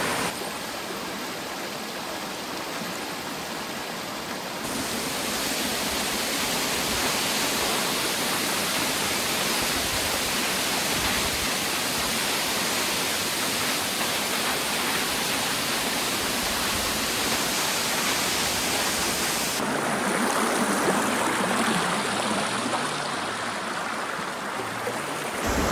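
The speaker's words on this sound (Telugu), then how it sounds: "ఆ రోడ్ మీద నుండి కూడా మనం దీన్ని చూడొచ్చు, ఈ వాటర్ ఫాల్ని." A waterfall in a valley roars as a steady, broadband rush of falling water, heard from a distance and constant throughout with shifts in loudness.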